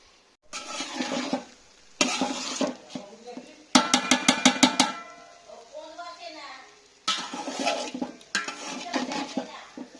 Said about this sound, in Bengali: চালটা ভালো করে একটু ভেজে নিচ্ছে, তারপর জল দেবে।